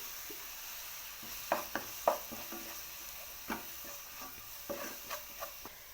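Onion with ginger-garlic paste frying in a pan for a bottle gourd pulusu, a soft steady sizzle broken by several scraping stirs of a spoon against the pan, close by with no voices.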